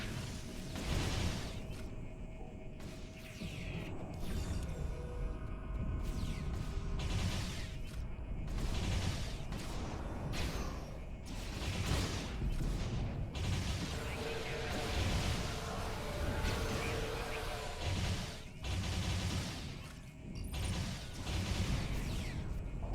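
Phaser compression rifle fire in Star Trek Online, a dense run of sci-fi energy shots, whooshes and blasts with knockback impacts, loud and continuous with battle noise layered throughout.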